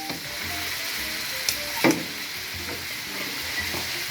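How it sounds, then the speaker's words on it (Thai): Minced pork and glass noodles stir-fried in a hot pan with garlic give a steady close sizzle throughout, with a few brief scrapes and knocks of the spatula around the middle and later. "ผัดให้สุกนะครับ ใส่วุ้นเส้นนะครับ"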